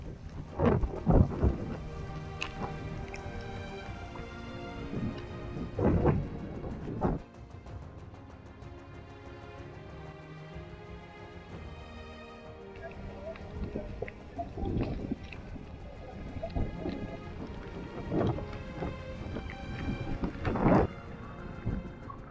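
A thunderstorm with heavy rain during an outdoor hiking event at Rukla, with several loud rolling thunderclaps breaking through a steady wash of rain.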